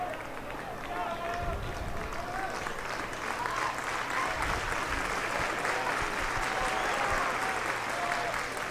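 Crowd at a Wisconsin state semifinal baseball game between Hortonville and Franklin, a sustained roar of cheering and applause heard from a distance, with an announcer talking over it.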